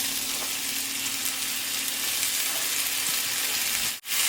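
A white onion frying in hot bacon grease in a pan gives off a steady, even sizzle with no voices, cutting out abruptly near the end.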